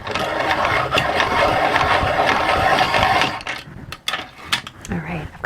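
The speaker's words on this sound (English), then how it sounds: "I'm running low, so I'm just going to sharpen." A pencil grinds in a sharpener, a steady close buzzing whir that runs about three seconds. It stops, then a few short clicks and rustles follow.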